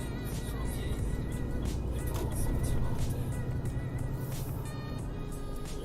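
A car drives steadily along a road, with a constant broadband engine and tyre rumble heard from inside the cabin, unbroken and fairly quiet throughout.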